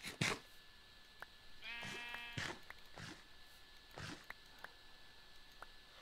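A sheep in the video game Minecraft gives one faint, wavering bleat amid sparse quiet clicks and ticks of game sound, with no talking.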